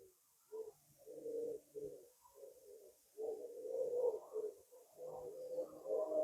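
Several pigeon-like birds coo and call in a tree by a church, overlapping, warbling phrases that come in bursts and swell toward the end, fairly close and steady.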